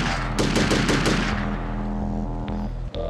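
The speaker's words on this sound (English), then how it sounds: "I'm going to start shooting guards" Rapid bursts of gunfire from guards being shot in Hitman: Contracts, a loud clattering volley in the first second followed by sustained game ambience and a couple of sharp single shots near the end.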